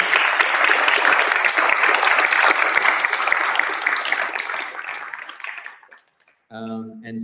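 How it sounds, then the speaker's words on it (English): Loud, dense applause from a meetup audience of game developers in Brisbane, honoring a panel on game engines; it fills about six seconds, then fades as a voice begins speaking. "can we get a round of applause for the panelists, please?"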